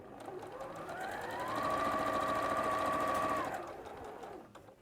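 A sewing machine stitches quilt blocks together for a Creative Grid Crazy Eights and Geofetti quilt, its steady motor hum rising into a continuous whir for a couple of seconds before slowing off, close and alone.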